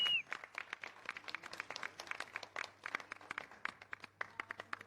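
At an awards event on stage, a small crowd claps in scattered, uneven bursts, faint and distant, sharp individual claps rather than a full roar.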